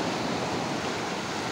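Large ocean waves break at the shore, a dense, steady rushing roar of surf heard close and loud without pause or speech.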